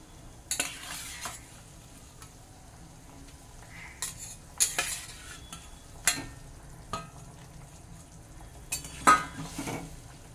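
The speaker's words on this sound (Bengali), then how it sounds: "ঝোলটা আমার খুব সুন্দর ফুটছে" A light koi fish curry with tomato and fried koi simmers in a pan, a soft low bubbling under occasional sharp metal spoon scrapes and clinks as it is stirred, close and quiet with no talking.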